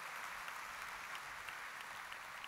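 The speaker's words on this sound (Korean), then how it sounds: "이렇게 박수 한번 쳐주시기 바랍니다" An audience at a CBMC Korea convention responding with a faint, distant wash of steady applause from many hands, evenly sustained with no voices over it.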